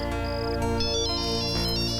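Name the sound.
phone ringtone ringing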